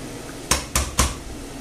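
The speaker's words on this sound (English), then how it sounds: "I reckon it's time to add the onion there" Three quick metallic clatters of a utensil against a frying pan while onion goes in for a Spanish omelette, close and fairly loud over a faint hiss, with no talk.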